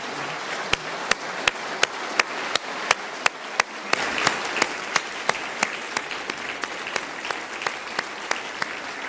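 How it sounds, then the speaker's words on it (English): Applause from a large audience during a state of the state address, a steady wash of many hands under sharp, evenly spaced rhythmic claps close to the mic. "let's give him a round of applause as well."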